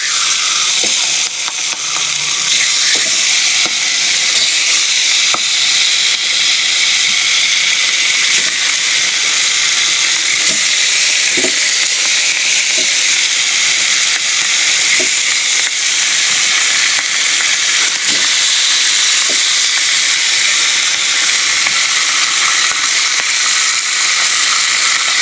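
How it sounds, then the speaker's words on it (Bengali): Fish frying in oil in a pan, a loud, continuous close-up sizzle and hiss that holds steady throughout, with faint scattered pops and clicks and no talk. "আরও যে খানিকটা মাছ আছে ভালো করে ভেজে নেব।"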